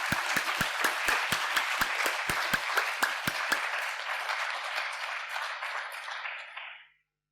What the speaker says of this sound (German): Jetzt dürft ihr klatschen.